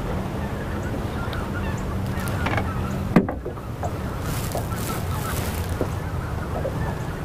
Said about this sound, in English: Lots of snow geese flying over today.